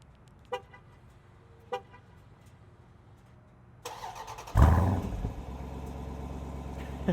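A 2020 Dodge Durango SRT remote-starts: two short horn chirps, then the engine cranks and catches with a loud, deep V8 roar that settles into a rumbling idle, close by.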